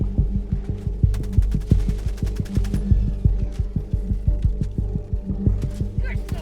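In Helldivers 2, an Orbital Gatling Barrage fires 23mm shells in a steady, rapid, loud stream of thumping impacts over a low throbbing hum. A voice talks over the barrage throughout.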